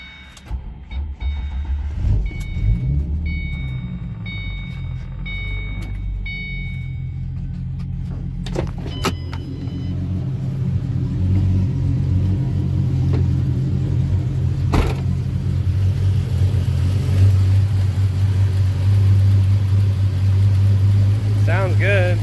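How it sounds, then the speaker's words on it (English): Acura car engine cranks and starts for the first time, then settles into a steady low rumbling idle, with some clicks and knocks early on and a person speaking over it. "Alright, here we go, the first startup. Hopefully we have enough juice to get it going."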